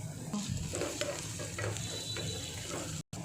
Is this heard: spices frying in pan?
yes